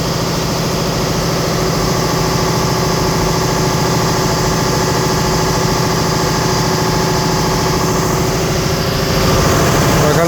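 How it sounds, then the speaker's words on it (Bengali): A passenger river launch, the Sundarban 14, on the river run from Dhaka to Fatullah, idles in its engine room: a loud, steady, close diesel drone with a deep rumbling vibration that runs unbroken throughout. "Engine room."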